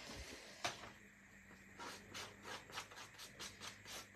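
A file rubs back and forth along the dirty track of a craft paper trimmer, making faint, close scraping strokes in a loose repeating rhythm with no talk.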